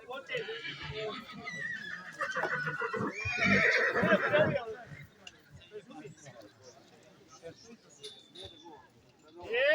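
At a horse show during a village fair, a horse gives a loud whinny midway amid crowd chatter, with people talking nearby and faint hoof and background noise.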